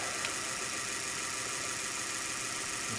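A rewound Bosch 750 W electric motor runs at higher speed, giving a steady, dense whirring hum at close range with no talk.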